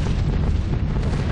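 Flak bursts in the World War II bomber game B-17 The Mighty 8th, a dense, loud, continuous low rumble of booming detonations filling the whole stretch with no voices over it.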